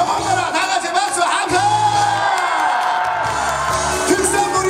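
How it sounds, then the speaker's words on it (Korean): Outdoor audience cheering and whooping at a trot concert during a Gyeongsangnam-do specialty products fair. A steady, fairly loud crowd roar runs throughout, mixed with the band's beat and a singer shouting over it. "경상남도와 영원나라 다 같이 박수와"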